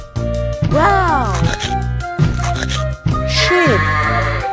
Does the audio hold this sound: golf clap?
no